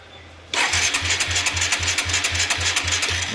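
A Hero motorcycle's self-start fires the engine after a brief quiet moment, then a close, loud idle settles in with a steady pulsing thump and bright mechanical clatter.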